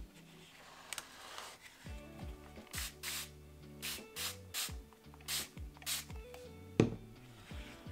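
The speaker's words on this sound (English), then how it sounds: "now we're gonna spray it with water." A spray bottle mists water onto a watercolor painting in several short hissing bursts, close and fairly quiet, with a few soft rubs and small brush or table knocks between them and no talking.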